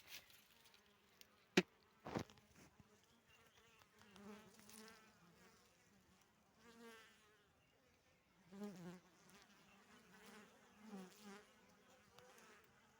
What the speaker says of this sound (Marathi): आता जसं आवाज येतो तुम्हाला माशांचा हे बघा बघा सण सण सण सण आवाज येते